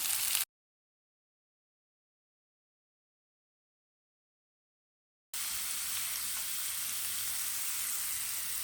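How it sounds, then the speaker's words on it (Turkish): Crumbly çökelek cheese frying with half-roasted peppers in a pan: a brief sizzle, then several seconds of total silence, followed by a steady, moderately loud hiss of frying. "Biberlerim yarı kavrulmuşken böyle iki kase çökeleği yani Diğer bir adıyla minci. Tavaya ilave ediyorum."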